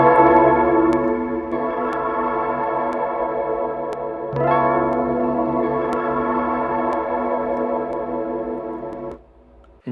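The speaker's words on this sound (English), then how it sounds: "You have Cathedral, which sounds crazy." Cathedral reverb preset on the Lo Fi Panda 3 lo-fi plugin, washing sustained chords into a dense, shimmering tail with faint ticks, loud and continuous before cutting out near the end, with no voices.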